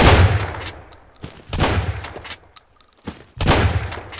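A shotgun fires in the survival game Sunkenland, with three loud, close blasts, each with a rumbling, decaying tail, separated by short quiet gaps.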